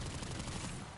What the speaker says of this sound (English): They brought back the Bosma, didn't they? It's this rifle